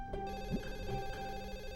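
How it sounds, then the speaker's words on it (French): A telephone rings in a domestic scene from a French-dubbed Indian TV drama, a quiet, steady electronic ring with no talking over it. "Je vais répondre au téléphone."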